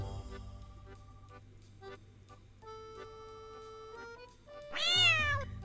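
A cat meows several times in a short burst near the end, close and fairly loud, after a quiet stretch of soft tonal background sounds indoors at home.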